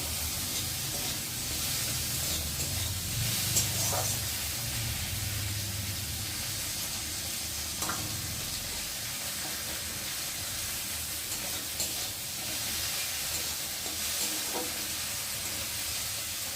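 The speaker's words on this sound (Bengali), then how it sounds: "আর এখন আমি কুচিয়ে রাখা টমেটোটা দিয়ে দেবো, দিয়ে ভালো করে একটু নেড়ে নেব।" Chopped tomato sizzles as it is added to pan-frying potatoes for a Maggi recipe, a steady close frying hiss with a few scraping stirs of a spatula at intervals, no talking.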